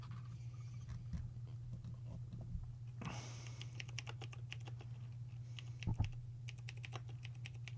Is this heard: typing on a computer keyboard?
yes